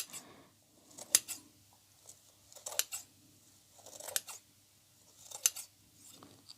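Scissors trim the edges of a spring craft decoration, making four crisp, close snips spaced about a second and a half apart in a quiet room.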